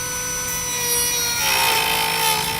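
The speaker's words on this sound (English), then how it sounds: "Now I'm going to be using a cutoff tool on my rotary tool here to cut that out." A rotary tool fitted with a cutoff wheel slices through the plastic honeycomb grille insert of a 2017 Jeep Cherokee, giving a steady, close, high-pitched whine and grinding rasp that holds for several seconds with no talking.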